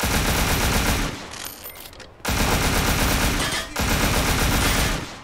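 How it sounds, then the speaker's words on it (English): Automatic gunfire fills a scene of the video game Scarface: The World Is Yours: loud, continuous bursts of shots with two short pauses, then more sustained fire. "Shooting up everything."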